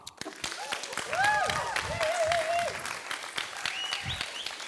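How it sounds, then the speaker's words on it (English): Warm audience applause welcoming a speaker at a Pride PechaKucha night, steady dense clapping that swells and holds, with cheers and whoops rising over it. "Let's all welcome Lina with another prideful and joyful applause."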